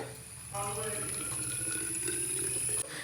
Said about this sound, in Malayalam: അപ്പോൾ ഞാൻ ആദ്യം ഇതിലോട്ട് വെള്ളം ഒഴിച്ചു കൊടുക്കുന്നുണ്ട്